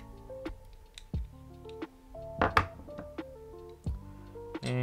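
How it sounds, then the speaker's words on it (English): Sharp metallic clicks and hollow thunks from a Canik TP9 Elite SC 9mm pistol being taken apart on a tabletop as the recoil spring is pulled out, a handful of separate close knocks with a brief rattle in the middle. "Pull out your recoil spring."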